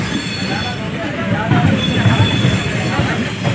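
A Bhubaneswar to New Delhi train rolls along with a continuous loud rumble and faint squealing from the wheels, while voices murmur inside the carriage.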